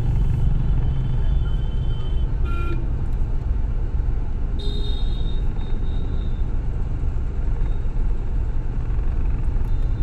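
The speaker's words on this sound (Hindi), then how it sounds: "देखिए यहाँ पे काफी ट्रैफिक भी लगता है और लग चुका है दोस्तों गड़ौनी बाजार में" Heavy road traffic crawling through Garhani bazaar in Bhojpur, Bihar, at midday: a dense continuous rumble of engines with occasional high horn beeps cutting through.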